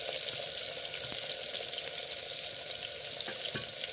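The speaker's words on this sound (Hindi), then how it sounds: "लहसुन मिर्चा का पेस्ट डाल देंगे।" Garlic and chili paste frying in a pan for a brinjal and potato curry, a steady close hiss and sizzle with occasional small pops and stirring clicks, no talking.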